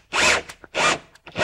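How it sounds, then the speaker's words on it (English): A power driver whirs in three short close bursts, grinding a screw into drywall over a board, through an existing hole, with brief pauses between each run. "Now a screw is going into that same hole."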